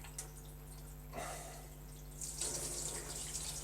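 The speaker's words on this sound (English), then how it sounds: "which means that the water's ready to come out of the hot tap" Hot water running from a household tap supplied by a water heater, a steady rushing stream that swells and strengthens after a couple of seconds, with a hiss of splashing in a sink and no talk.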